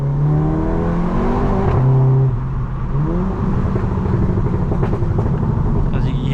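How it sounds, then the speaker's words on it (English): A VW Golf GTI Mk7.5 with a stage 1 tune revs and pulls hard, its engine tone rising and falling with gear changes and exhaust burbles, loud from inside the car while someone talks over it. "We've also got some little burbles added to the car as well."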